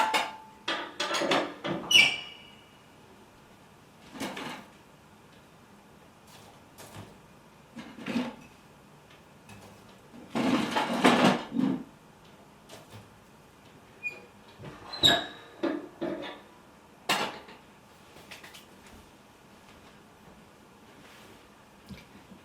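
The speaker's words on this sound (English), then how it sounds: "I have to put firewood in the oven." Wooden logs being loaded into a wood-burning home oven, heard as scattered knocks, clunks and scrapes with long quiet gaps between them, close by and with no talk.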